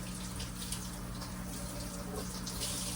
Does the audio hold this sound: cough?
no